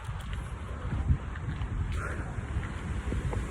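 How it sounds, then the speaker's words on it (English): Strong wind buffets the microphone in steady low rumbling gusts, with a faint outdoor background and no talking. "oh shit, it's windy, man."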